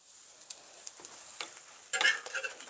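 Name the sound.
radish rice cake grilling in a pan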